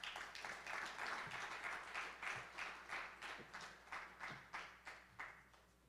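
Sparse applause from a small conference audience welcoming a speaker to a panel at a scientific research day, quiet and distant, with individual claps in an uneven rhythm that fade over about six seconds.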